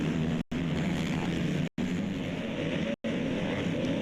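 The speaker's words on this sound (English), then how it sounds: "Listen to these engines just screaming at the high RPM." ATV quad racers with 450 engines scream at high RPM during an off-road track race, a loud, dense and continuous mechanical roar broken by three brief dropouts.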